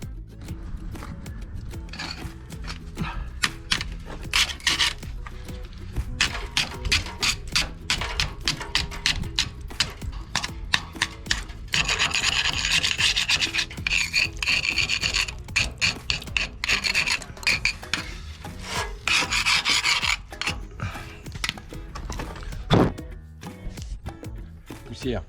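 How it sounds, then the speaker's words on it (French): Harsh grinding rasp of sanding rust off a steel sailboat keel, loud and close, running in long rough strokes with brief pauses, while someone talks at times underneath. "donc on va poncer"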